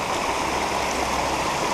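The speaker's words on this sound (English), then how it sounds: "We got water flowing over the top." Floodwater rushes over a 6-inch driveway pipe and pours down a ditch, a loud, steady, close wash of flowing water with no pauses and no voices.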